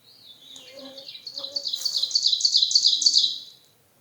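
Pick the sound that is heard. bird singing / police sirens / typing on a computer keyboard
bird singing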